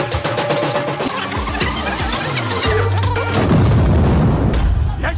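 Bomb blast in a Hindi action comedy, a loud booming explosion with crashing debris and a rumbling roar that swells toward the end, set among a dense movie soundtrack.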